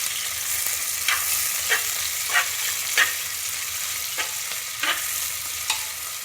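Sliced onions frying in a pressure cooker for biryani, a continuous bright sizzle broken by regular stirring scrapes of a spoon against the pot, fairly close, no voices.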